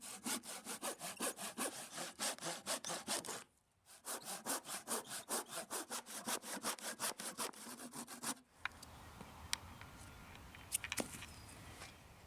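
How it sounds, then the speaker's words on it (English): Handsaw cutting a wooden board for a hand-built Finnish fall mouse trap, close and steady back-and-forth strokes in two long bursts with a short pause, then quieter handling and wood taps. "take a handsaw and cut this lower board the same length as our top deadfall"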